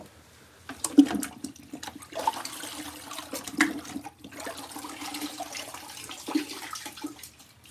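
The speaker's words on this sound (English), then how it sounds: "I'm going to dip it in water and clean this off." Water sloshing and splashing as a plant cup is dipped and rinsed to clean it, with several distinct splashes and trickles heard up close and no voices.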